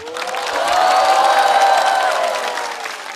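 A stand-up comedy audience bursts into loud applause mixed with cheering and whoops, swelling quickly, holding, then tapering off.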